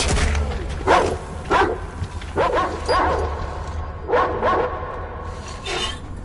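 A dog in the video game Metro Exodus barks repeatedly in short bursts of two, the loud, fairly close woofs spaced by brief pauses over a low rumbling background.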